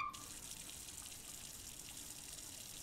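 Water running steadily in the Japanese horror video game Hollow Cocoon as a character drinks, a constant gushing tap-like flow heard alone at low level throughout.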